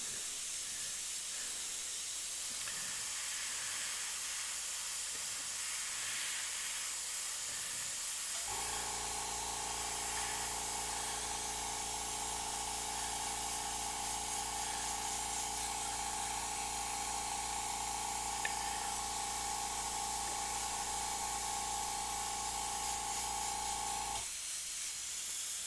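An airbrush sprays paint in a steady, soft hiss, with a compressor humming in under it through the middle stretch before stopping again.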